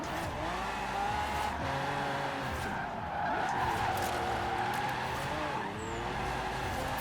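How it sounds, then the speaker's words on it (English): A heavy drift car in Forza Horizon 4 spins its wheels, tires squealing and skidding continuously over a revving engine that rises and falls, while someone talks over the noise. "At least it spins those wheels. It is definitely spinning those wheels."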